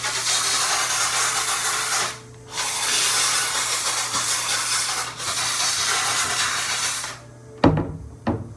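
A Bissell steam cleaner hisses steadily in broadband bursts, pausing briefly twice, then cutting off near the end with a couple of short knocks.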